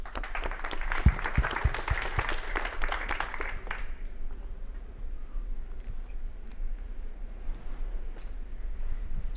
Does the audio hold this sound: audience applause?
yes